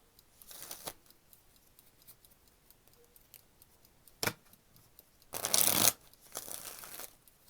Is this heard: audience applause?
no